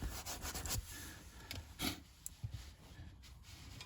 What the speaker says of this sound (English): when you're finished with just sanding like this